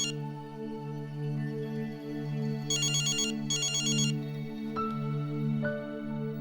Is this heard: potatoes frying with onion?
no